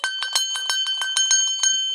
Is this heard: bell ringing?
yes